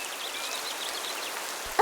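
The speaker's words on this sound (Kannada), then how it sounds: "ಸಡನ್ ಆಗಿ ಗುಡುಗು ಮಿಂಚು ಮತ್ತೆ ಮಳೆ ಬರಕ್ಕೆ ಶುರುವಾಗತ್ತೆ." Steady rain hissing through an animated story scene, a dense, even patter with no thunder evident, ending in a brief louder burst at the very end.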